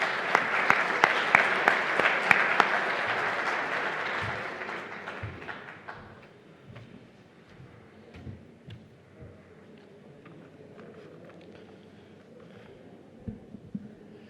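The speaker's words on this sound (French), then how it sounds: "je vous demande de l'applaudir, mesdames et messieurs." An audience at the opening ceremony of a world conference of cities and ports applauds loudly for several seconds, then the clapping thins into scattered claps and fades to a quiet room with a few isolated claps later.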